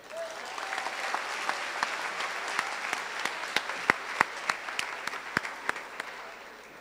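Audience applause at a school district highest honors ceremony: a broad, even bed of clapping from a crowd, with scattered sharper individual claps standing out near the front, moderately loud and steady, fading slightly at the end.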